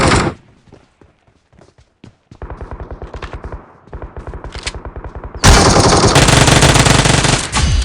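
Video game gunfire: scattered single shots, then steady rapid bursts of automatic fire, ending in a loud, dense sustained volley, close and with no talk.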